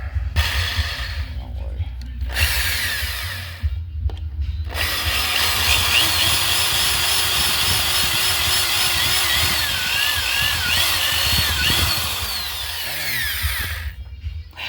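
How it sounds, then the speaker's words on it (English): A power tool cuts through the exhaust pipe of a 2009 Honda CBR600RR motorcycle, grinding loudly and almost continuously for most of the stretch, with short pauses near the start and end. "Then finish cutting my pipe and putting it back together."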